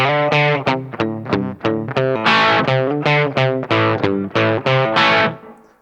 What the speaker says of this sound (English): Now I'm playing the riff like this.